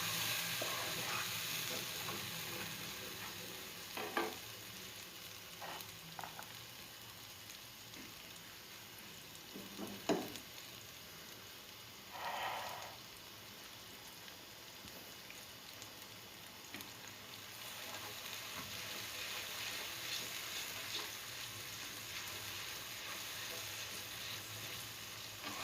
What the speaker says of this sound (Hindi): मीडियम फ्लेम पे हमने इसको अच्छे से मसाले को भूनना है